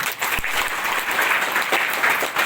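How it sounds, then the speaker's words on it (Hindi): A crowd claps steadily at a healing prayer service, sustained applause filling the space at moderate loudness with no talking over it. "चलिए तालियां लगेंगे।"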